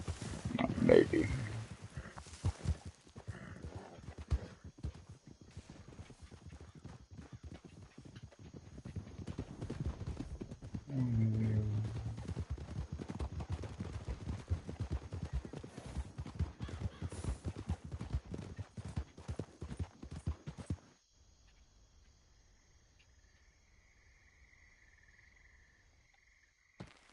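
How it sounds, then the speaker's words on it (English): In Red Dead Redemption 2 Online, hooves drum in a fast, steady patter of running horses at moderate distance, lasting most of the clip before dropping to near silence. "Hearing horses running,"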